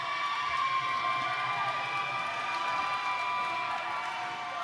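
A roller derby crowd cheers and shouts in a steady, dense roar, loud and sustained across the whole stretch, with faint voices mixed into the noise.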